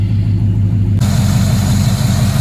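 A 2007 Cadillac Escalade EXT truck engine idles up close with a loud, steady low rumble and even throb, no voices.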